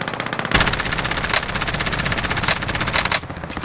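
Rapid, sustained machine gun fire in Call of Duty Warzone, a dense, evenly spaced stream of loud shots that starts abruptly and keeps going with only brief dips, with no talking.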